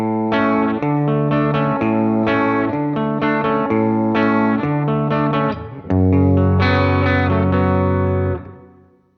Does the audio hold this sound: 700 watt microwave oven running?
no